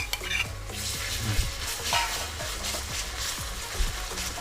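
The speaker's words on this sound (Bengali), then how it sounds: "আদা আর রসুনের কাঁচা গন্ধ চলে যাওয়া পর্যন্ত এটাকে আমি নাড়াচাড়া করে নেব" Onion, chillies and crushed ginger and garlic sizzle in a pan for egg tarka while a utensil stirs them in quick repeated scrapes against the metal. The sound is close and continuous, with no talking.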